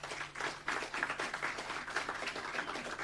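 An audience applauds at a contact centre launch, a moderate steady patter of many hands clapping together for about three seconds, fairly distant and even, with no talk over it.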